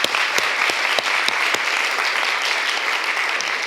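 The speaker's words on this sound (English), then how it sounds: "Another round of applause." Sustained applause from an audience at a women's health panel event, dense steady clapping throughout with a few sharper individual claps standing out.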